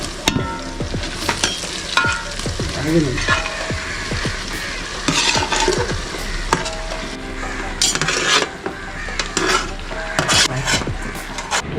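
Clam meat fries with sautéed onions in a pan, a steady loud sizzle running throughout under frequent scraping and clanking of a stirring spoon against the pan.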